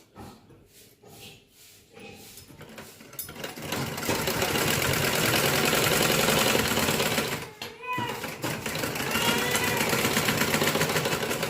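A sewing machine runs steadily as it stitches an embroidered blouse in a village setting, a loud continuous whir that starts after a quieter opening and is briefly interrupted near the end, with voices mixed in.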